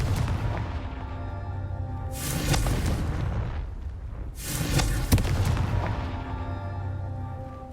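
Confringo blasting spells exploding in Hogwarts Legacy: two loud, booming blasts a couple of seconds apart, each a sudden burst that fades into rumble, over a steady low droning background.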